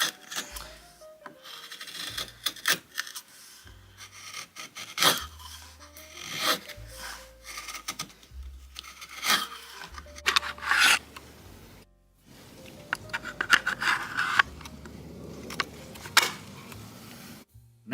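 A sharpened chisel, blunt and nicked before going on a Parkside PSS 65 D1 sharpening station, pares into wood in short scraping and rasping strokes with irregular pauses and knocks, close and fairly quiet.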